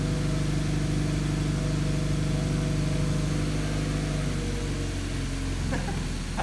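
A kit car's engine runs steadily just after its first start, a close, even idle with a low droning hum that stays level from start to finish.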